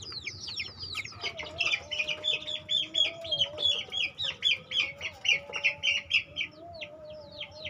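Chicks peep in rapid, repeated high chirps, close by, with a softer lower clucking running underneath.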